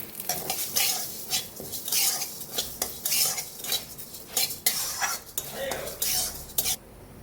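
Masoor dal stirred in oil in a wok, with a spoon scraping and clinking against the metal in a steady, busy rhythm beneath a soft sizzle, close by.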